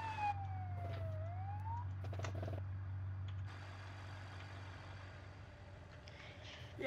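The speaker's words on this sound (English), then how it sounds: "Well, I gotta turn off my sirens." A police siren wails with a sweeping tone over a low vehicle rumble, then cuts off, leaving the engine idling.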